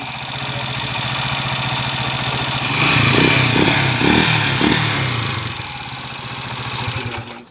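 Misfiring TMX125 Alpha motorcycle engine with a 175cc conversion, running loud and close with an uneven, stumbling idle that rises briefly before settling back.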